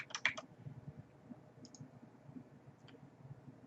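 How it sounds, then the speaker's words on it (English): A password typed on a keyboard: a quick cluster of faint clicks at the start and a few scattered taps afterward, all soft over a quiet room murmur. "And type in our password."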